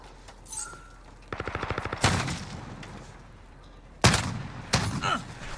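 MP7 submachine gun fire in a shooter video game: a rapid, evenly spaced burst of shots, then several louder separate gunshot bursts with impacts, fairly quiet overall.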